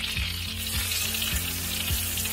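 Zucchini slices frying in oil and melted butter in a pan, a steady loud sizzle with faint rhythmic stirring or scraping underneath, no voices.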